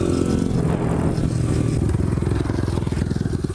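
Two dirt bike engines running close together, one droning loudly and drowning out the other, with a steady low rumble and a pulsing throb that builds through the second half.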